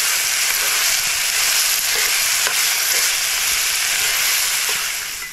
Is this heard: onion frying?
yes